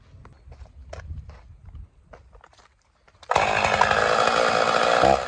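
A chainsaw roars into loud, steady cutting on a farm after a few seconds of footsteps and quiet handling noises.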